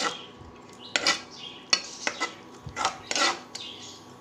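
A spoon scrapes and clinks against a metal pot as a handful of mint is stirred into kushka rice, with sharp irregular metallic taps and rasping scrapes spaced through the stretch, close and fairly clear over a faint kitchen hum.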